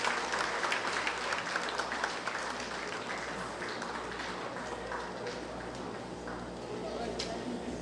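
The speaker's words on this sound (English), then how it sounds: "Could we give the Ministry of Education and the University of Guyana a big round of applause for this" A seated audience at an education centre launch in Guyana applauds in a long, dense, even round of clapping that stays steady and moderately loud throughout.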